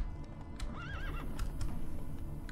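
A horse in the video game The Witcher 3 neighs once in a short wavering whinny, while its hooves clop nearby and the creature moves with a limp.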